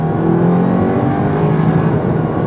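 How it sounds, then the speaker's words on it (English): Turbocharged engine of a 2018/2019 Audi A5 Sportback accelerating smoothly, a steady close hum that builds gently and continuously throughout, with no voices over it. "Just press and go, very smooth too."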